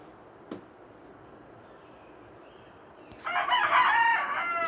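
A rooster crows loudly in a front garden, a single long cock-a-doodle-doo that starts abruptly after quieter outdoor ambience with a faint earlier bird call.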